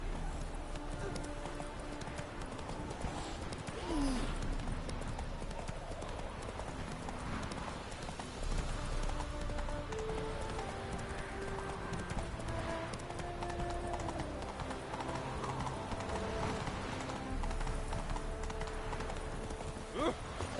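A horse gallops in The Witcher 3, a steady rhythmic clip-clop of hooves running through the whole stretch under background music, with brief voices now and then.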